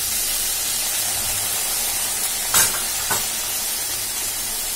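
Green chili paste fries in a pan for Tangra fish curry, giving a steady, close sizzle and hiss throughout, with a couple of brief stirring scrapes near the middle.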